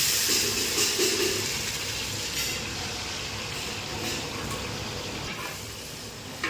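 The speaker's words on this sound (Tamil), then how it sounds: "அது இப்போ நாம் வெங்காயத்தை கொட்டிடலாம்" Chopped onions tipped into hot oil for a large batch of vegetable pulao cooked as temple food offering, producing a steady, loud hiss and sizzle that holds without letup.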